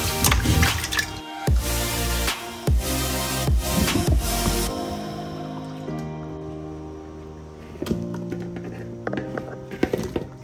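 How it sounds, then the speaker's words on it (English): Water is poured into a cocoyam stew in an earthenware pot, with splashing, gushing bursts over the first few seconds, then a softer trickle and scattered drips and knocks that follow. "It's hard, so I need this amount of water for it to cook well."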